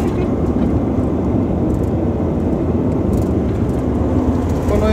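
Steady low rumble and road noise inside a moving car on a trip in Japan, the engine and tyre drone constant and close throughout, with no clear speech.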